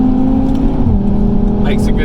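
Audi TT RS engine and exhaust pulling hard in third gear at speed on the way to the Nürburgring, a loud steady drone with a rising tone, continuous throughout with cabin road noise.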